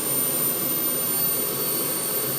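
A gas turbine engine runs as its throttle is increased, giving a loud, steady, close roar with a high thin whine riding on top throughout.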